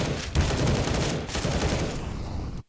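Galil rifle fire in Counter-Strike, a loud sustained burst of rapid shots layered with other gunfire, running nearly three seconds before cutting off abruptly, no speech.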